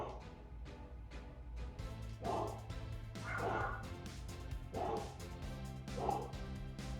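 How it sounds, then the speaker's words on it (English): Dogs bark and yip repeatedly at a distance, in short uneven bursts over steady low background noise, with a faint voice talking underneath. "They're still barking."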